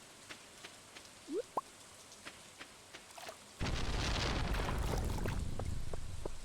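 Steady rain in the Stardew Valley video game begins abruptly partway through as a dense, even hiss over soft quiet game sounds, with a few faint chirps and blips earlier.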